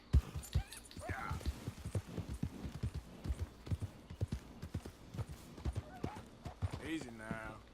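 Horse hooves clip-clop steadily in Red Dead Redemption 2 at a brisk, even walking rhythm, fairly quiet, with a short whinny-like call near the start and end.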